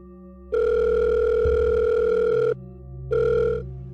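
Steady electronic phone ringback tone from an outgoing call, one long two-second burst followed by a shorter repeat, loud and clear with no talking over it.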